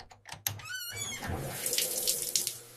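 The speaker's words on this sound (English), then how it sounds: "Turn on the shower." A shower is turned on with a squeaky handle twist, then running water builds into a steady hiss and splash, close and moderately loud, with no voices.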